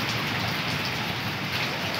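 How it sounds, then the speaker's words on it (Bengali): Steady heavy rain pours down without pause during a long midday downpour, a dense even hiss filling the scene from start to finish with no voices. "একভাবে চলছে বৃষ্টি"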